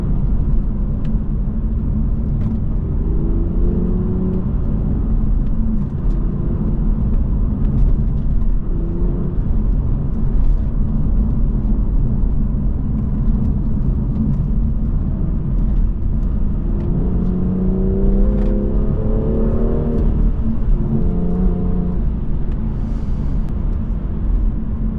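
A BMW engine with Active Sound Designer switched on gives a loud, steady low drone, with a couple of rising and falling revs partway through.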